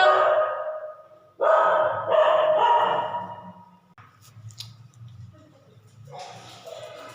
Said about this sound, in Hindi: टुनटुन जो है मेरे डॉगी